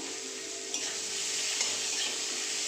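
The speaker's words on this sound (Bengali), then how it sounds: "একটু পেঁয়াজটা ভাজা ভাজা হয়ে যায়" Onion sizzles in hot oil in a pan with a bay leaf, giving a steady, close frying hiss with a couple of faint stirring scrapes and no talking.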